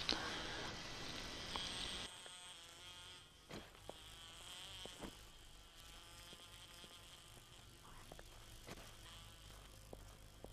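A buzzing insect in the survival video game 7 Days to Die, a steady faint whine droning throughout with a few brief clicks, louder for the first two seconds before thinning out.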